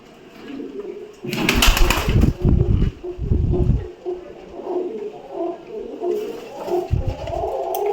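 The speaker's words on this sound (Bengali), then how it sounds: "তো সাদা পায়রার বাচ্চা দেখুন" Pigeons, including white pigeon chicks, coo in low, throaty bursts nearby, with a loud rustling or flapping burst early on and softer murmuring coos continuing afterward.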